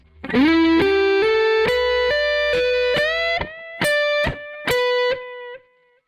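A distorted electric guitar plays a rising run of single notes, then a few short staccato notes with sharp cutoffs near the end.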